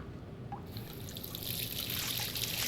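A bathroom sink tap running in the Life is Strange video game, water trickling and splashing steadily close by, growing a little louder and brighter after the first moment.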